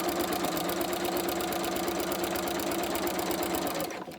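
A sewing machine stitches fabric for a boxed outdoor seat cushion, running at a fast steady rhythmic clatter, close and loud, then slowing to a stop at the end.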